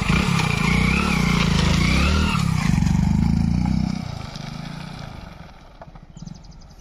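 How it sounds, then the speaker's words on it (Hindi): A motorcycle engine runs while the bike is ridden, loud and close with a steady revving drone and some rattling clatter, then easing off and dropping to a quieter idle near the end. "ड्राइव कर लेनी है बाइक"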